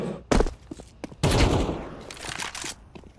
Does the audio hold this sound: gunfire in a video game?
yes